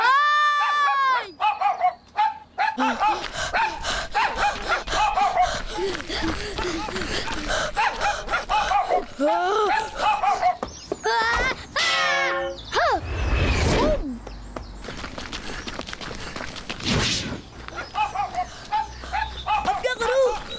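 Cartoon dog in a 3D animated series barking repeatedly while chasing someone, sharp yelping barks amid bursts of bleating-like cries, gasps and hurried scuffling effects, loud and close.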